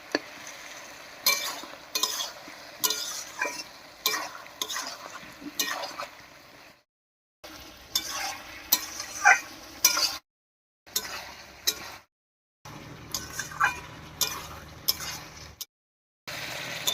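Bottle gourd sautés with spices while a spoon stirs and scrapes the pan in repeated bursts, with a light sizzle and clinks, broken by short silent gaps.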